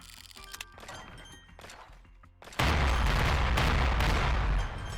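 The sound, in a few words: dragon bombing the area in video game Apocalypse Party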